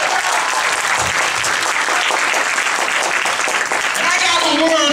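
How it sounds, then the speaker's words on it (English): A church congregation claps for the workers in a loud, dense, sustained round of applause with crowd noise, and a voice rises over the clapping near the end. "how many want to give the workers a round of applause today?"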